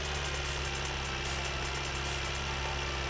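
Steady low tractor engine drone from My Winter Car, a continuous idling rumble with faint rattling vibration, constant and unbroken throughout with no voices.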